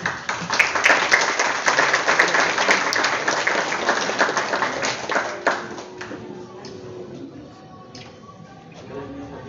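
Loud audience applause at a school ceremony in Spanish, dense rapid clapping from many hands for the first several seconds, then thinning into scattered claps with voices and background chatter as it dies away.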